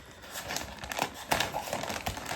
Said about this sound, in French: Mes petits ciseaux, je vais essayer de bien couper.